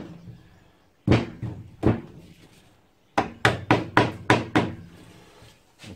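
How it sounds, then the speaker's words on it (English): Several sharp hammer taps on the loose engine casing of a Honda 250cc V-twin: two separate knocks, then a quick run of five or six close, loud blows in a steady rhythm, with no talk. "We can give it a little gentle tap with the magic hammer"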